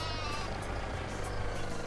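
Sheep bleat in the Farming Simulator 2017 video game, a steady layered bleating from a flock over a continuous low engine-like rumble, with no talking.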